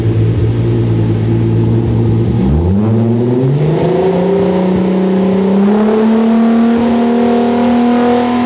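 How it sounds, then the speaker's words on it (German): A VW Golf engine, very loud and close, holds a high rev near 5000 rpm, then drops sharply as the throttle is released and settles into a lower, steady drone. "Also wir sagen jetzt einfach mal 5000 Umdrehungen."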